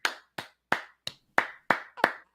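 One person applauds with a slow, steady clap, about eight sharp, close and fairly loud claps evenly spaced roughly a third of a second apart, with no voices.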